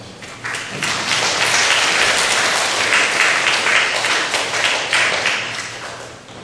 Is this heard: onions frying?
no